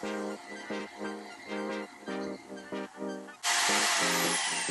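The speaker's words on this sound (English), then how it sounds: "So let me just cut those pipes real quick" Close power tool cutting pipes in short, repeated bursts of high whining tone, each separated by brief pauses. The last second turns into a loud, steady, noisy roar.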